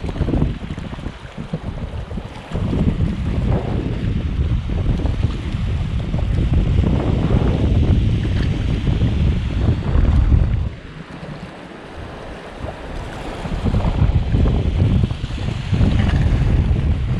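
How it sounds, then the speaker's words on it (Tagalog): Rough water slaps and surges around a small fishing boat on a lake in Laguna, mixed with gusty wind buffeting the microphone, continuous and loud. "Maalon kasi. Sobrang maalon."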